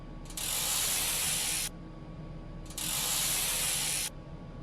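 Tools working on a nut, heard as two long, loud, even bursts of broad hissing mechanical noise, each about one and a half seconds, separated by a short pause over a constant low hum.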